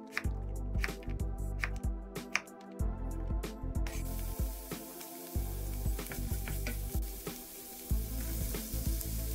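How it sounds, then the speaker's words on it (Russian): Onion, carrot and zucchini fry in a pan over medium heat, giving a continuous close sizzle broken by repeated bumps and scraping as the vegetables are stirred. "Также отправляем в сковородку к овощам, перемешали"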